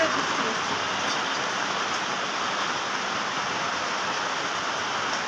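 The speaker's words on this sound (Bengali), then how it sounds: "বৃষ্টি হচ্ছে।" A constant, even hiss of rain fills the whole stretch without pause, steady and fairly loud.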